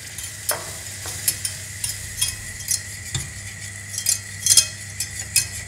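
A spoon stirs flour into melted butter in a pan for a stuffed carnival puff pastry, with soft scraping and light metallic taps against the pan over a faint continuous sizzle.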